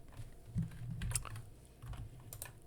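Quick, irregular key clicks from typing on a computer keyboard during video editing in After Effects, soft and close, with no voices.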